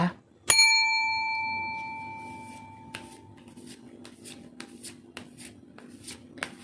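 A single bright bell strike rings out and slowly fades, followed by soft rustling and shuffling sounds.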